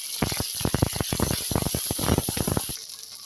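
Rice paste dropped into hot oil in a wok for a Bengali tiger prawn curry, an intense close sizzle with rapid crackling bursts over a bright hiss, settling quieter at the end.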